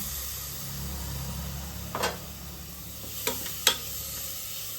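Kashmiri chilli powder and chopped tomato frying in a pan for soya biryani, with a soft steady sizzle broken by a few brief louder crackles, no talking.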